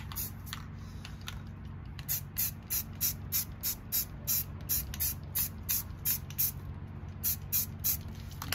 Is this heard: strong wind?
no